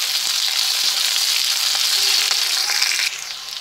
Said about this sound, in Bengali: দিয়ে আমি এটাকে ভাজা ভাজা করে নেব আলুর সাথে